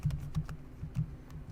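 Fingers typing a command on a computer keyboard, a handful of soft, irregular key clicks close by in a quiet room.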